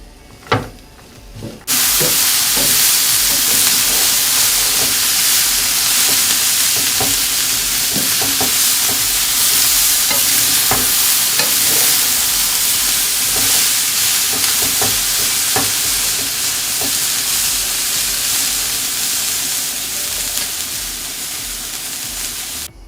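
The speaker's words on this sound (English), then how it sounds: "turmeric is better to be toasted to our beans, and let it sear with the beans" Green beans sear with turmeric in a hot pan for red rice with meat, bursting into a loud continuous hissing sizzle after a few soft knocks, with occasional stirring clicks throughout.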